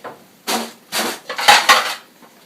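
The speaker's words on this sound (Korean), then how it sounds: "자, 이제 불을 끄겠습니다. 접시에 담아 보겠습니다." A few distinct clinks and scrapes of a utensil against a plate as mapo tofu is dished up, in separate bursts close by, with no talking.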